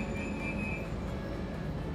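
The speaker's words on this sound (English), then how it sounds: "Cosumnes River College-bound train." A light rail train bound for Cosumnes River College, on a line linking two Los Rios colleges, rumbles steadily and close by with a brief high whine near the start, no voices over it.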